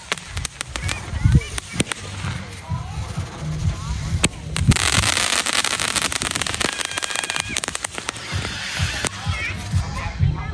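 Z121 fireworks at a Tet 2025 celebration crackle and pop in rapid, uneven bursts over ten seconds, close and fairly loud, with brief pauses and speech mixed in.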